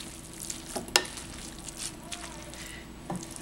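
Broccoli being tossed and mixed in a bowl, soft wet stirring and squishing with a few sharp clinks, quiet and close.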